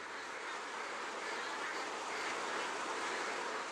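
Ducks on an intensive British duck farm with no water for swimming, a dense continuous wash of many quacking birds merging into a steady roar, with no distinct single calls.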